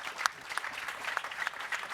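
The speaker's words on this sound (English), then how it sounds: "Please, a round of applause for our 4 panelists." A panel audience at the AIG Women's Open gives a round of applause for four panelists, a brief, fairly faint patter of clapping with a few sharper individual claps.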